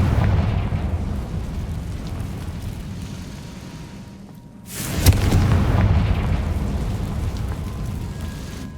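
A Confringo fire spell explodes in Hogwarts Legacy, a sudden heavy boom bursting out of a low rumble and trailing into a long roaring, crackling decay.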